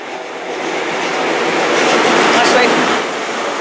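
A Class 43 HST train, power car 43003, rushes through Castle Cary station on the Great Western main line, a loud broadband roar swelling and then easing as the carriages pass close by.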